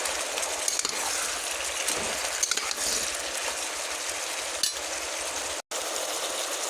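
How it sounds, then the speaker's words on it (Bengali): Taro stolon curry with shrimp and potato is stirred in a pan, giving a continuous dense sizzle with faint scraping, loud and steady throughout, briefly cutting out near the end. "এবার ভালো করে নেড়ে দেবো।"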